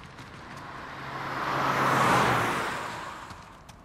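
A car driving past on a desert road, approaching from a distance, swelling to a loud rushing peak midway, then fading away as it recedes.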